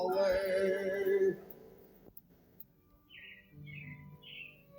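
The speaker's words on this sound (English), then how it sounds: "It looks like the Robins are getting ready to celebrate Valentine's Day today." Robins chirp in a short series of three bright, fairly close calls, following a loud stretch of music and voices that fades out, in an indoor animatronic theater show setting.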